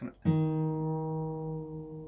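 A single plucked guitar string rings out clearly and sustains, its pitch bending slightly as it is tuned, quiet and alone.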